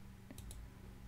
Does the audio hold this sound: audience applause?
no